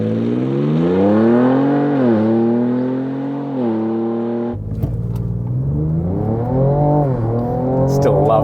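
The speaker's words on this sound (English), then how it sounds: "Still love the sound of my car." A car engine accelerates hard from a standstill, pitch climbing through gears with a brief shift dip, loud and close from inside the cabin.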